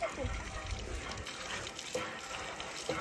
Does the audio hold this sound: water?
yes